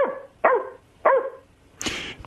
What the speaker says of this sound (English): That's bark. only one bark.